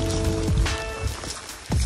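Rain falls steadily outdoors before a bowhunting trip to a tree stand in Nebraska, giving a close, constant patter with a few louder thumps and splashes.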